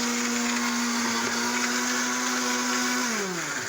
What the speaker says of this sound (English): This blender has a very high-powered motor.